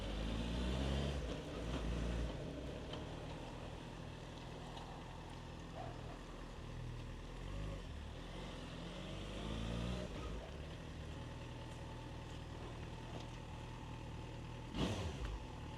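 A Yamaha FZ6S motorcycle with about 11,000 km on it idles quietly and smoothly nearby, a steady low engine hum with a soft, even rhythm and a brief louder knock near the end.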